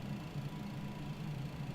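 An MD-11 freighter engine in a flight simulator spools during start-up, a low steady hum with a faint pulsing throb, continuous and fairly even, no talking over it.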